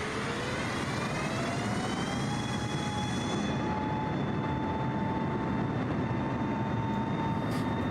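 A propeller aircraft engine in Microsoft Flight Simulator 2020 throttles up, its droning tone climbing steadily in pitch and then holding a loud, even whine, with no voices over it.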